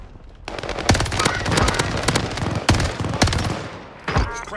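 Rapid automatic gunfire from Call of Duty Warzone, with dense, loud bursts that stay nearly continuous and sharper shot peaks cutting through, and a final short volley after a brief lull.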